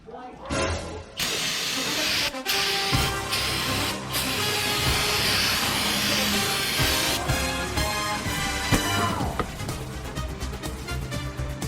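Brake cleaner sprayed onto the front brake rotor of a 2016 Nissan Rogue, a loud, steady pressurized hiss that runs nearly the whole time with brief breaks and some clatter underneath.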